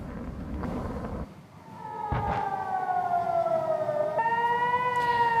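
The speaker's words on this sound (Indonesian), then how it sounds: "membuat sirine peringatan di kota tersebut kembali berbunyi" An air raid warning siren sounding over Jerusalem during an Iranian missile attack at night, a distant steady tone holding then shifting pitch, heard faintly against background rumble.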